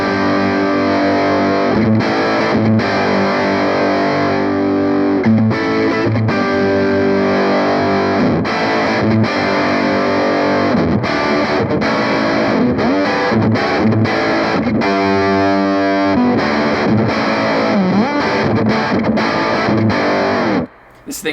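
Single-coil electric guitar on the middle pickup played through a Caroline Shigeharu Fuzz with the octave-up set about halfway and the amp's bass boosted, giving a loud, bright, sustained fuzzy tone with steady strummed chords and riffs throughout.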